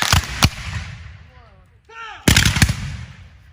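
A rifle volley rings out at a Civil War fort re-enactment as two sharp, loud cracks, then a shouted command, then another burst of overlapping shots that echoes and fades.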